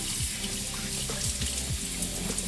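Rice being rinsed under a running kitchen tap: a steady close stream of water splashing over grains in a bowl, continuous and fairly loud, with no speech.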